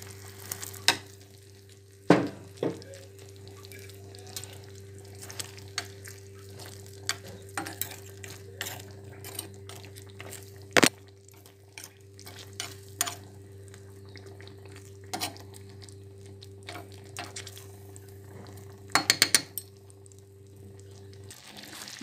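Chopped onion sizzles steadily in hot fat in a tagine pot as it is stirred, with occasional scraping clicks and a few sharper knocks over a soft continuous fry.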